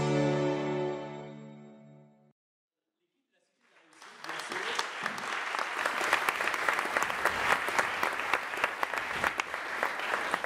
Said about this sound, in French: On applaudit avec ces applaudissements bien sûr en hommage à l'équipe qui a créé cette magnifique Cité de la Réussite